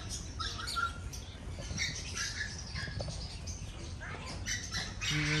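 Ducks and black swans at an aquarium and pet park in Mysore, with scattered squawks, chirps and wing flaps over a steady, busy background of outdoor crowd noise and low rumble, all at moderate distance.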